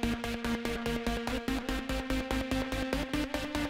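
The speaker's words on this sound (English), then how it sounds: "What you hear is a Massive and that Yamaha synth that I was talking about" A Massive software synth layered with a Yamaha VSS-30 plays a stuttery, aggressive, percussive pattern of rapid chopped pulses with a steady pitched line running through, loud and dense throughout.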